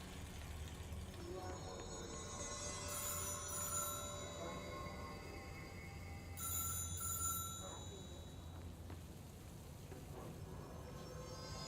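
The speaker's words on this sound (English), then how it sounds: "I missed the phone call." A telephone rings in the video game Control, sounding a few bursts of bell-like ringing over a continuous low background hum before cutting off abruptly.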